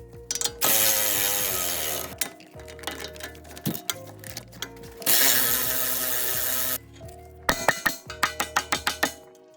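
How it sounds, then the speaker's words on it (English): A bolt on the suspension spindle of a BMW E39 M5 is loosened with a power tool, two long loud bursts of rattling whir separated by pauses, then a rapid series of ratcheting clicks. "Loosen this bolt up right here."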